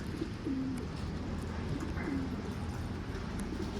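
Pigeons cooing in a large outdoor coop in the rain, two soft, low coos a second or so apart over steady rain hiss and faint background movement.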